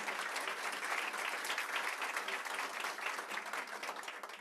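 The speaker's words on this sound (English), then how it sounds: "If everyone could give her another round of applause." An audience at a business conference launch applauding, a dense continuous wash of many hands clapping at moderate distance, steady throughout without speech over it.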